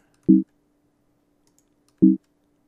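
Two crisp, isolated computer mouse clicks about two seconds apart, close and dry over a faint steady hum, while editing in Ableton Live.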